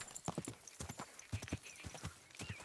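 Horse hooves clip-clop in a steady walking rhythm in the video game Kingdom Come: Deliverance 2, quiet and close with a faint snort, no speech over it.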